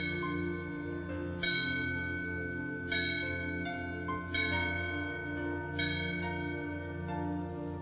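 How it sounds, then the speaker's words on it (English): A memorial bell at a fire department funeral strikes four clear, evenly spaced times, about every second and a half. Each strike rings out and fades into a long, sustained hum. "Why is a bell rung at fire department funerals?"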